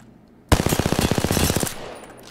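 A burst of rapid SMG fire from the Apex Legends video game rips out loud and close, roughly a dozen fast shots in a single stream lasting just over a second before fading.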